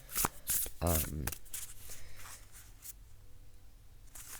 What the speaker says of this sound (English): So when I do it like that, they shuffle well.